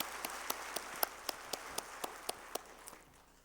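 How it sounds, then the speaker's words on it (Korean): A congregation at a Korean Sunday church service claps in unison, a quiet, evenly spaced run of about a dozen crisp claps that fades out at the end. "하나님께 감사와 영광의 박수 돌려드립시다"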